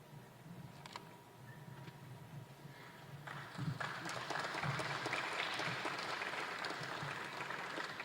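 A press conference audience applauding, a soft scatter of claps that swells into steadier moderate clapping at mid-distance, with a few camera shutter clicks.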